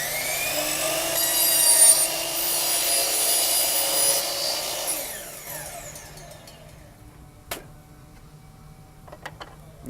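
Double bevel sliding compound miter saw cutting a board, a loud whirring blade whine that bites through the wood for several seconds, then winds down, leaving faint clicks and a sharp knock near the end.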